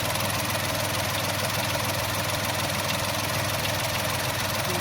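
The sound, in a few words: Mahindra 3X0 three-cylinder engine idling rumble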